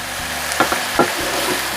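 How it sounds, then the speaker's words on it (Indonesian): Sliced green and red chilies stir-fried with spices in a pan, a steady sizzle broken by a few sharp scrapes and clatters of the spatula. "Nah, ditumis-tumis sampai bumbunya ini matang ya teman semua."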